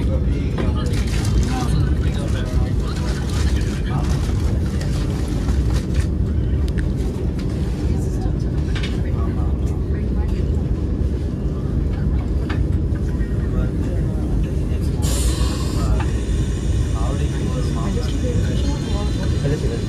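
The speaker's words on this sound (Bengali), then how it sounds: "ট্রেন ব্যাঙ্গালোর স্টেশন ছেড়ে বেরিয়ে যাচ্ছে" Vande Bharat Express pulling out of Bangalore KSR station, a steady, heavy low rumble filling the whole stretch at even loudness, with indistinct voices blending in.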